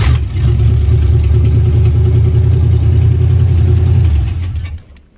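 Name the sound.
Chevy K5 Blazer engine starting and idling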